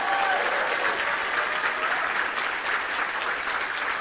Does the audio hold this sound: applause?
yes